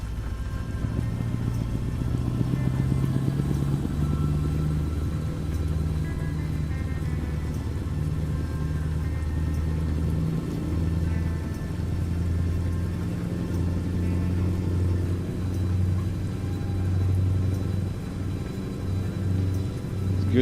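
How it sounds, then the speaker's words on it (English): Scania V8 truck engine in the American Truck Simulator game, a low steady rumble that rises and settles slightly as it runs, moderately quiet with no talking. "Good to hear the V8 again."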